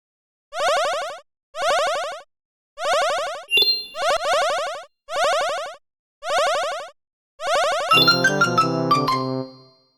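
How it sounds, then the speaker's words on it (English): Chiptune-style sound effects from a C++ Raylib game: a series of bright, evenly spaced rising tones, a quick glitchy blip, then a dense burst of jangling notes at the end. "so that you guys can hear the game sounds"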